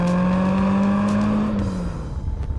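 A BMW E30 M3 sports car drives with a loud, steady engine note that holds and rises slightly before easing off and fading near the end, alone without talk.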